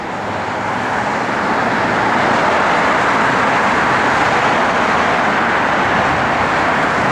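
A 1967 Ford Mustang cruising along a road, giving a constant loud rush of engine and tire noise from inside the car, with no voices.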